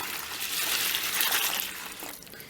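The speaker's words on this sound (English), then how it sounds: "And then we're going to put in just some cold water." Cold water pours steadily into a container holding washing powder for cloth pads, a broad rushing splash that swells slightly midway and continues alone without talk.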